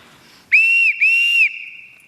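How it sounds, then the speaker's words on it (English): A shrill two-part whistle blown to summon household staff, two sustained blasts with a short break between them, loud and close with no talk over it. "Everybody in this house answers to a whistle."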